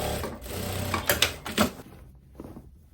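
A sewing machine hums briefly up close while stitching a tweed overcoat, with a few clicking pulses before it stops and fades into quiet.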